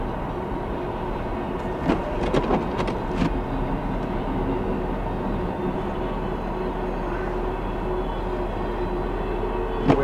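Norfolk Southern freight train with a BNSF engine rolling past the Lincoln Avenue crossing in Dunkirk, New York during heavy snow, a steady close rumble with a few brief clanks and squeals early on, no talking.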